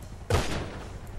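A single loud gunshot in GTA Online goes off abruptly, a sharp blast followed by a short echoing decay, with no voices.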